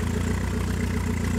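A Fuxtec mini drift kart's small engine idles steadily after warming up on a cold day, a close, even low putter with no revving or speech.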